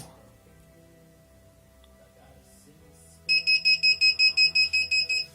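After a few seconds of low electrical hum, a 1000 W portable power station overloaded past 1.1 kW starts a rapid run of about ten loud, evenly spaced high-pitched beeps.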